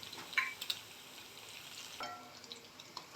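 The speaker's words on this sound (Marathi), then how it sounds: "भेंडी घालून घेते." Okra goes into a hot pan for a fasting-day rajgira upma and is stirred while frying, giving a soft, low sizzle with scattered scraping stir sounds and a few small clinks.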